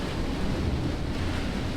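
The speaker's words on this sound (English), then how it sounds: "Wow, that's a big gust." Strong Hurricane Beryl gusts roar steadily across a mangrove lagoon in Grenada, a loud, continuous broadband rush of wind with buffeting against the microphone and no voices.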